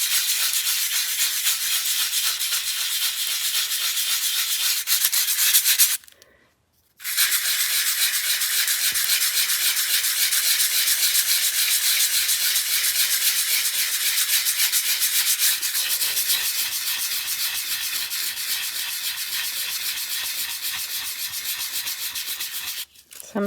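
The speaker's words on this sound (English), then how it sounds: "This is just some regular old sandpaper. I don't even know. 100 grit, I guess, is what that is." Hand sanding with 100 grit sandpaper on a paper journal, a steady close rasping rub that continues unbroken except for one short pause partway through.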